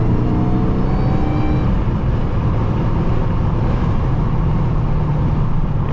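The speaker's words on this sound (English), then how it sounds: "let me put this down a little bit so maybe you can hear these downshifts coming up soon." A loud, steady engine roar fills the whole stretch, a Dodge Charger Daytona Hellcat on the highway droning continuously with rising and falling tones as it shifts down through gears.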